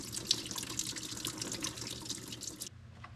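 Fuel from a 1947 Ford 2N tractor drains in a steady, close splattering trickle that runs continuously, then cuts off abruptly just before the end.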